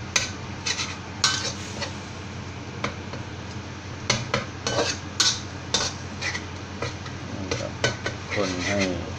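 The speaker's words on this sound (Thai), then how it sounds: "คนให้พริกแกงกับกะทิเข้ากันครับ ให้ส่งกลิ่นหอมครับ" Green curry paste being stirred into coconut milk in a pot, with repeated scraping and clinking strokes against the metal and a soft bubbling sizzle beneath, steady and close.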